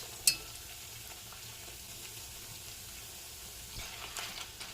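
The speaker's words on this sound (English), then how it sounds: "I'll just be tossing them around until they get real nice and crispy and gold." Tortilla chips for chilaquiles verdes fry in hot oil with a steady, even close sizzle, opened by a single light clink and a slight swell near the end as the chips are tossed.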